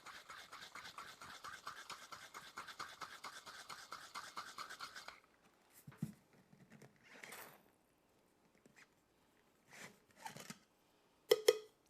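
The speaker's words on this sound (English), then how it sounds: "A good dry shake. Because we're trying to get the texture to form with the egg whites before we add ice." A cocktail shaker gets a dry shake with egg whites and no ice for a Japanese sour: about five seconds of fast, steady rattling, then it stops, leaving a few scattered handling clicks and knocks.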